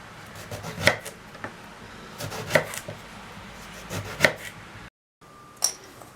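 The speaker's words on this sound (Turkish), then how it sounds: "patlıcanımızı soymadan hepsini bir ayarda bu kalınlıkta doğrayalım" Knife chopping unpeeled eggplant into even slices on a board, three sharp distinct chops spaced about evenly apart, close and clear, followed by a brief silence and one more cut.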